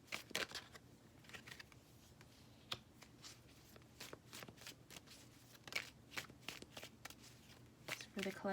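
Tarot cards shuffled by hand in quick, crisp riffling bursts and soft slaps, close and fairly quiet, repeating irregularly with brief pauses.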